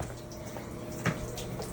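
Sink tap running during a sewer line hydro jetting check, a steady faint hiss of flowing water with a brief splash partway through.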